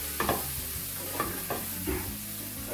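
Oil sizzles in a pan for an omelette while a spoon stirs it, a few distinct scraping strokes over a steady close frying hiss, with no one talking.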